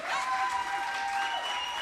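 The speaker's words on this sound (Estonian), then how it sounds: "Teeme ühe aplausi veel." Audience applause fills a hall at a youth concert of songs, dense steady clapping carried along with a sustained tonal music or feedback line throughout.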